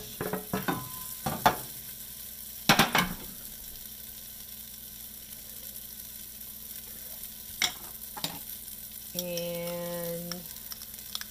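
Butternut squash sizzles in a pan with intermittent clanks and scrapes as it is stirred, with quiet frying between the bursts of handling.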